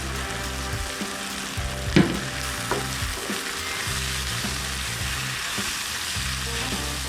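Loud, steady sizzling and crackling as biryani masala with tomato fries in hot oil, with a utensil stirring and scraping the pan up close and a sharper clack near the middle.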